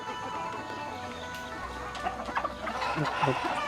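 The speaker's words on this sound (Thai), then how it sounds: "ตัวนี้เป็นไก่สาวนะครับ" A young native village hen kept as future breeding stock clucks on a farm, several short, soft clucks growing louder toward the end over a low steady background hum.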